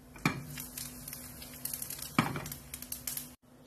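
Whole coriander, fenugreek and fennel seeds fry in hot oil for samosa filling, giving a soft steady sizzle with two sharp utensil clinks and faint scraping throughout.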